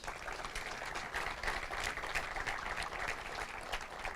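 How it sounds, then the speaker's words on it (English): Dense, steady crowd applause at a spring-training stadium opening ceremony, a continuous wash of many clapping hands held at even loudness for several seconds, fairly near and without pause. "Give them a round of applause, please."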